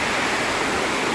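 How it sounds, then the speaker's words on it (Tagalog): A park stream flows steadily, a constant broadband rushing wash close by with no voices over it. "Ang sapa."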